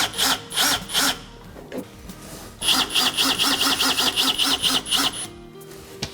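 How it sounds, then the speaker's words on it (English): A power drill whirs in short repeated bursts, revving and pausing as a screw is driven in while installing a kitchen light switch, loud and close. "then you can use your handy dandy drill"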